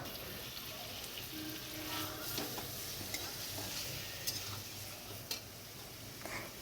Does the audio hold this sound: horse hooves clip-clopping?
no